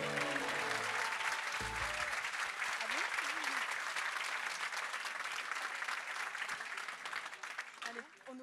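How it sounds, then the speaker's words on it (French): An audience gives sustained, loud applause for three finalists, a thick continuous patter that holds steady and tapers slightly at the end, with brief voices at the start and close. "Vos applaudissements à nos 3 finalistes."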